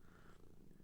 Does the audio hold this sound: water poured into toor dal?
no